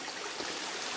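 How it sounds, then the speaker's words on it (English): A widening stream flows across the Andrew Murray Young Trail in Acadia National Park, Maine. A close, steady rush and trickle of running water fills the whole moment, with no voices. "I'm standing on the Andrew Murray Young Trail, and I'm crossing the stream."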